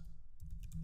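A short, quiet burst of typing on a computer keyboard, with a few soft key clicks in quick succession at a desk.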